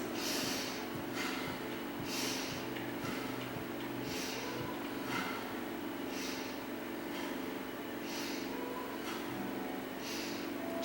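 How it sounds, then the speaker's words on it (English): Slow, even breaths drawn in and pushed out through the nose during a beginner Kundalini yoga practice, faint airy rushes repeating every couple of seconds over a low background hum. "you can breathe in and out your nose"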